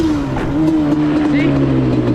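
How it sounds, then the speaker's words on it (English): Close, loud Yamaha Banshee ATV engine held at a strong, sustained rev, a steady buzzing drone with slight pitch drift and faint talk in the background. "You give it a bunch of revs, it's gonna come up."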